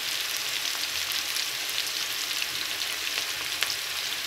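Diced potatoes frying in a pan for a Pakistani potato and green chilli dish, a steady, even sizzle and crackle throughout with no talking.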